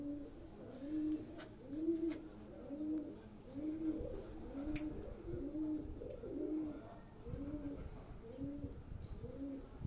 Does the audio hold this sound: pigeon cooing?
yes